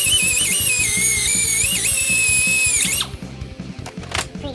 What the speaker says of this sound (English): always pre-drill